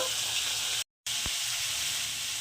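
Bangra fish sizzle in hot mustard oil in a brief, even frying hiss, broken by a short moment of total silence partway through.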